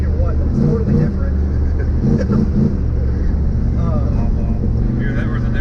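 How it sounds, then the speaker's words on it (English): A turbocharged LS engine in a 1995 Chevy drag truck drones steadily from inside the cab while driving, a low continuous rumble running under people talking. "it sounds a little bit more radical now than I remember riding around in it"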